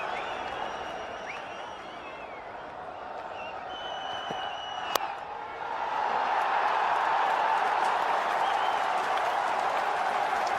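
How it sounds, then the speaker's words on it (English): A cricket crowd at Lord's, with many Pakistan supporters, applauding and cheering during a Pakistan versus England one-day international, a broad, distant roar of clapping that swells louder midway, with commentary voices present. "There are quite a lot of Pakistan supporters in this good crowd here at Lord's today"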